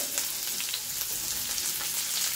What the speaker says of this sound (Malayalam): നല്ല ഓയിൽ ചൂടായി വന്നിട്ടുണ്ട്. സവാള ഇട്ടെടുക്കാം